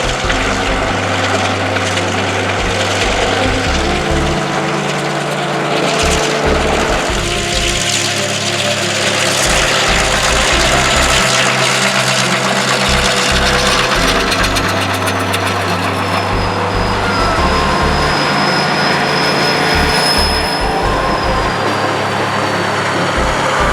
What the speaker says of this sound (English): the engines before us are a GP38-2 and the SD40-2, and that they are doing all of this smoking and puffing and chugging